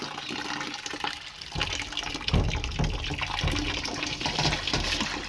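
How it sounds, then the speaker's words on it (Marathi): Water runs from a household tap that has just been turned on, a continuous rushing splash with a few louder surges, close by and without talk. "फिरवला, नळच फिरवून टाकला."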